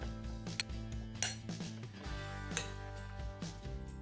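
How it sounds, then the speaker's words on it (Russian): Sliced beetroot tossed with a spoonful of vegetable oil in a bowl, with a spoon repeatedly clinking and scraping against the dish in an uneven rhythm, close up, over a faint musical background. "Поливаем ее 1 столовой ложкой растительного масла. Все перемешиваем."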